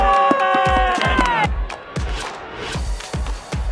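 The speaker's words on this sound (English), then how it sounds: "Crowd loves it." A college football crowd roars and cheers through a game between William & Mary and Delaware, with a sharp whistle or horn tone early on. Rhythmic thumps and claps run through the steady, loud stadium noise.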